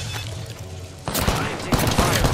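Rapid bursts of automatic gunfire in a firefight in Apex Legends, dense crackling volleys that grow louder and more intense partway through, close and harsh.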